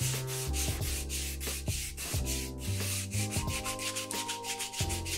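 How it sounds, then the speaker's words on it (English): 3D printed axe parts are sanded smooth by hand, a loud close rasping scrape repeated in steady back-and-forth strokes throughout, with no talking. "Once everything was nice and smooth and sanded to around 220 grit"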